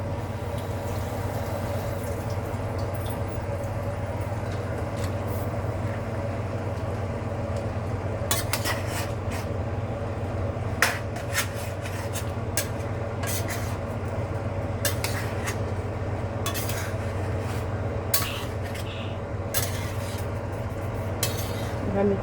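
Masala being stirred into Andhra chicken curry in a pot, with repeated light clinks and scrapes of a spoon against the metal over a constant low hum.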